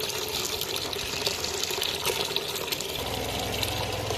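Water gushes from a leaking municipal water pipe in a street, a steady rushing flow heard close by with no speech over it.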